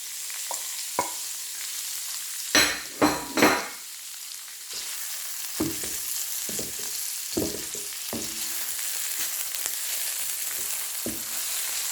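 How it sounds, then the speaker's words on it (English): About half a cup of chopped onions fry in a pan for a tomato pasta sauce, giving a steady sizzle with a burst of clattering stirs early on and scattered scrapes after. "Then we'll be adding my chopped onions, about half a cup."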